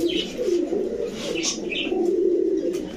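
Rajshahi and Budapest pigeons coo in a low, continuous, overlapping murmur close by, with a few faint chirps above it.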